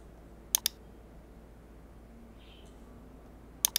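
A computer mouse clicks twice in quick succession near the start and again near the end, crisp and close against a quiet background hum.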